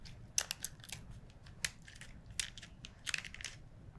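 Kitchen scissors cutting along either side of a chicken backbone through soft cartilage, a series of sharp crunching snips and cracks coming close up at an irregular pace, with no talking.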